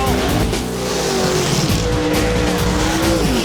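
Corvettes launching at a drag race, with loud roaring engines, squealing tires and crowd noise blending into a continuous dense rumble with shifting engine pitch.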